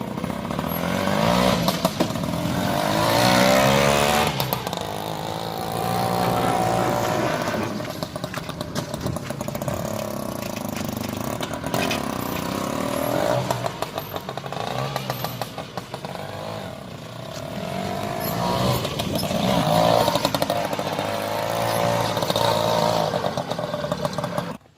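Homemade Beetle-style car engine running while driven, a loud, rough, buzzing drone that rises and falls with throttle, clattering continuously for the full length with no voices.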